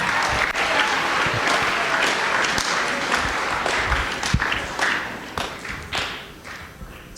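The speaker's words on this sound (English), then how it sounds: "have one more round of applause for all these wonderful students and players and everything?" An audience at a school event applauds students and performers, a sustained, fairly loud round of clapping with scattered thumps and taps that gradually thins and fades toward the end.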